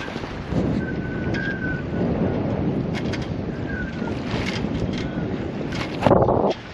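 Strong wind gusting around 20 to 34 mph buffets a reefed sailboat sailing without a jib through whitecaps, a loud continuous roar of wind across the microphone with surging gusts and water rushing beneath.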